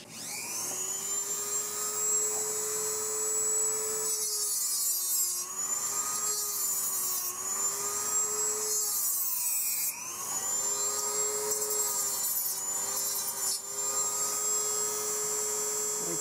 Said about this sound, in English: we're going to use the Dremel to remove it